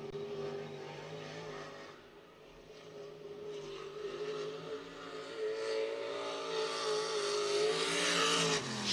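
A World of Outlaws sprint car runs a qualifying lap at Grand View, its engine howling steadily and rising in pitch as it builds speed, heard from a distance and growing louder toward the end.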